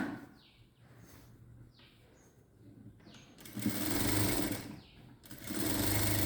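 A sewing machine stitching a blouse sleeve seam, running in short whirring bursts between quiet pauses, with two longer, louder runs of rapid needle chatter near the end.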